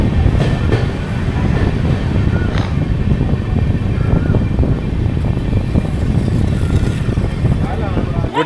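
A Doon Express train with LHB coaches rolls along at a steady pace, giving a loud continuous rumble with rhythmic wheel clatter and occasional sharper knocks throughout, heard from inside the coach.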